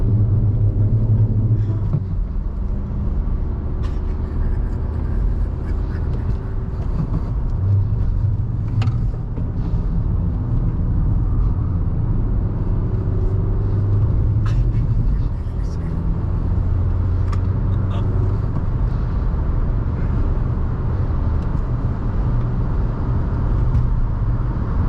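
A Nissan Note's engine roars and rumbles steadily at speed on the Nürburgring Nordschleife, with road noise throughout and occasional voices talking over it.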